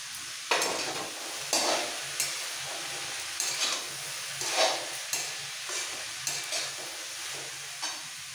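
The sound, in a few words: vegetables with tomato and capsicum frying for pav bhaji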